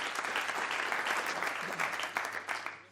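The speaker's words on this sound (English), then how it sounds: "Give him a round of applause, Alex Tudor." A live audience at a football managers' question-time radio show claps for a guest, a fairly close, steady burst of many hands that eases slightly toward the end.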